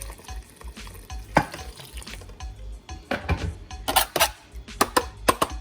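Banana porridge being stirred and whipped with boiling water for a Jamaican recipe, with wet sloshing and clanking strokes of a utensil in the pot, irregular and close, picking up into quick bursts toward the end.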